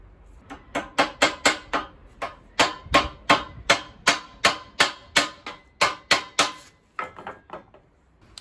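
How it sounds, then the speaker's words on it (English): Rapid, sharp hammer strikes on a pallet truck's stuck metal roller parts, about twenty ringing blows in a steady rhythm, close and loud, tapering to lighter taps at the end; outdoors. "Let's take it outside and hit it with a hammer."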